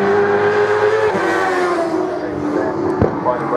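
A racing sidecar outfit at Darley Moor circuit roars past during a sidecar race, its engine note loud and sustained with a pitch sweep as it goes by, under crowd noise and a commentator's voice.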